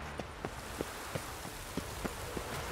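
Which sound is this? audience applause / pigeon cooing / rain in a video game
rain in a video game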